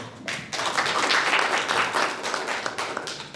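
Conference audience clapping at a blood transfusion society meeting, a dense burst of applause that swells quickly and holds steady for a few seconds.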